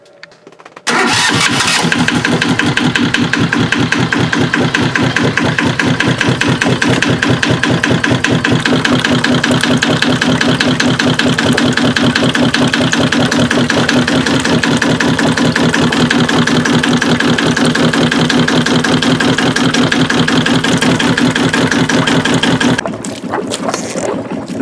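A Yanmar 1GM10 single-cylinder marine diesel starts up and runs steadily with a loud, close chugging rhythm, flushed with fresh water from a hose, then cuts off near the end.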